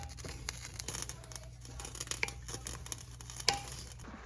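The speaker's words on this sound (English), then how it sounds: "And just stir it up just a little bit." Mushrooms sauteing in a pan for mushroom soup are stirred, giving a soft continuous sizzle with faint scraping and rustling, close but quiet, with no talking.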